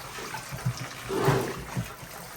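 Tap water runs steadily while mustard greens are washed for sinigang, a soft continuous trickle with a few small splashes and dribbles.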